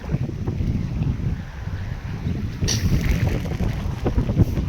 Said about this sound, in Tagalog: Grabe ang hangin mga ka-farmers kung may ulan,